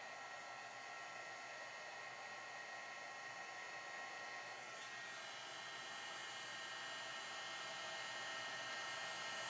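A heat tool blows hot air onto chunky embossing powder, giving a steady, loud, continuous whooshing roar that holds unbroken from start to finish, close up with no talk.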